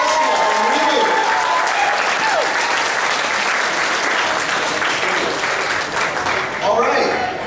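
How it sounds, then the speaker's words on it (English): A crowd at an anime convention costume contest claps loudly and steadily throughout, with a few cheers and whoops mixed into the dense applause. "Big round of applause for Reboot."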